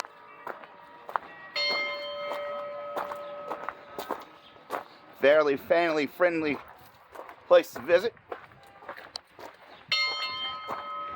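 A large steam locomotive bell rings with sustained, ringing tones near the start and again at the end, while people talk in between, at a railway museum.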